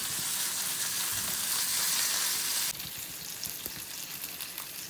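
Bangda (mackerel) fish fries in a pan with dense, close sizzling and crackling that stays even, then eases to a slightly softer, spattering fry partway through. No voices.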